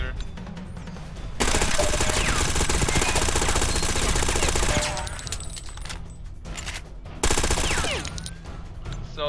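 CPW rifle firing at a 900 fire rate in the shooter game Ghost Recon Phantoms: several long, loud bursts of rapid automatic gunfire separated by brief pauses, with faint game sounds between the bursts.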